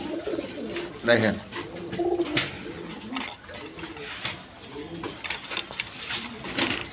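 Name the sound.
Rajgolla pigeons cooing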